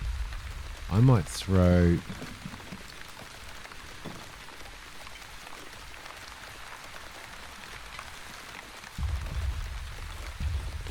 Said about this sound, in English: And rain falls upon us again.